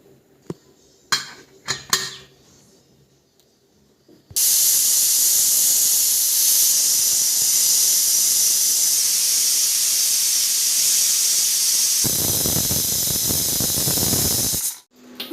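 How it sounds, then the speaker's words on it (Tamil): A pressure cooker of mung beans on the stove lets out a long, loud, continuous hiss of escaping steam for about ten seconds, swelling into a rough whistle near the end and then cutting off, after a few light clatters. "அவ்வளோதாங்க, நல்லா விசில் போயிடுச்சு."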